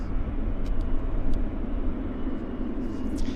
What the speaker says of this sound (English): We've got a big Air Canada taxiing out.